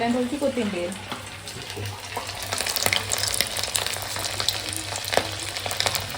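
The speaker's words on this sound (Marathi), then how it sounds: "पकोडे सोडूया आणि कढई बघू शकताय मिनी कढई छोटीशी कढई" Pakoras made with flour and ginger-garlic paste sizzle and crackle in hot oil in a small wok, a steady frying hiss with brief speech at the start.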